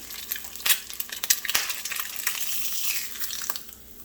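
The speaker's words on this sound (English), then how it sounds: "I'm going to loosen my egg from my pan" A fried egg sizzling in a pan as a utensil scrapes it loose, with crackling, spitting bursts and a few sharp scraping clicks over a steady hiss.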